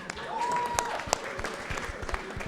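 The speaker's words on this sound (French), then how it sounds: "il faut qu'on applaudisse pour les filles" An audience applauds the contestants at a Miss RD Congo pageant, a brief patter of clapping mixed with voices and scattered sharp claps.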